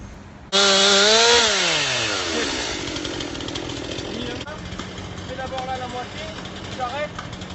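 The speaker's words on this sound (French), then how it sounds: "Rebelote avec les tronçonneuses et les coupes-coupes." A chainsaw revs up loudly, its engine whining and dropping as it bites into brush on a blocked track, settling into a rougher idle with further chainsaw revs in the distance.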